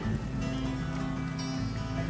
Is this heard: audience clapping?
no